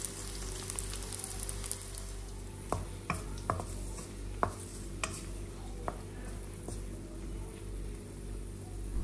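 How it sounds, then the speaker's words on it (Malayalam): Garlic, green chilies and curry leaves sauté in sesame oil with a constant close hiss and crackle, broken by a few sharp spoon taps and stirring scrapes. "പച്ചമുളക്, കറിവേപ്പിലെല്ലാം ഇട്ടിട്ട് നല്ലോണം ഒന്ന് വഴറ്റിയെടുക്കുന്നുണ്ട്"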